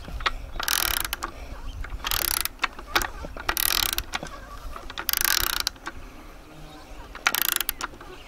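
Clicking and whirring from the mechanism of a 1970 Fisherman outboard motor spun by hand, in several bursts with pauses between them, close by.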